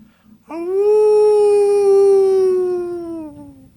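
A dog howls in one long, steady, mournful tone that holds for about three seconds before fading. It is fairly loud and sounds alone, with no talk over it.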